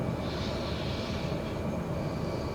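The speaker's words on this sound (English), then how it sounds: "I'm right on that throttle point where the turbo's kicking in and kicking out" A light aircraft engine in Microsoft Flight Simulator 2020, held right at the throttle point where the turbo cuts in and out, a steady loud drone with a faint wavering whine on top and no break in it.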